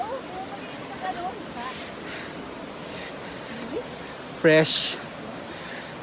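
A river's broad, steady rushing water runs throughout, with a brief louder splash-like burst near the end; a voice speaks briefly over it. Recorded at the Batad Rice Terraces, Philippines.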